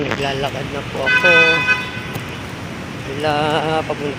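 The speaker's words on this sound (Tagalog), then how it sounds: "Ayun, businang walang humpay, busina ng Diablo." A car horn honks repeatedly in street traffic, several loud, sustained toots in close bursts over rumbling road noise, with a voice talking in between.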